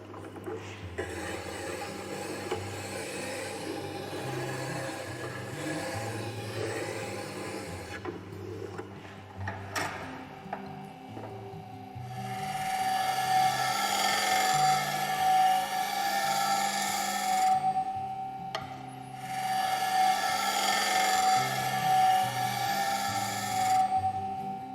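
A wood lathe spins a wooden plate as a turning tool cuts it, producing a steady hum with a rising scraping, rasping whine that grows louder midway and varies as the cut continues.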